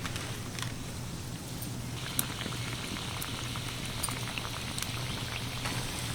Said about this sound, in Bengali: এরকম হালকা তেল গরমেই এগুলোকে ভাজতে হবে